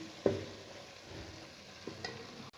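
Ginger-garlic masala fries quietly in hot oil in a pan, a soft steady sizzle broken by a few light stirring scrapes and clinks.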